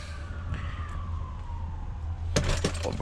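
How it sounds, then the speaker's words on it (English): Police sirens pass along a street, with one steady wailing tone gliding downward over a few seconds at moderate distance, then a burst of nearby clatter near the end. "Why is it every day I go scrapping, sirens everywhere?"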